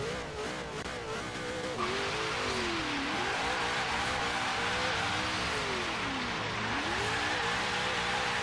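Supercharged HSV GTS engine in Forza Horizon 3 revving loudly and continuously, pitch climbing and falling in repeated sweeps, with a steady roaring drone throughout.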